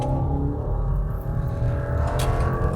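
A 2021 Subaru Legacy 2.5 with automatic transmission rolls over tram tracks, a steady low road rumble and muted cabin drone with faint thumps, no voices.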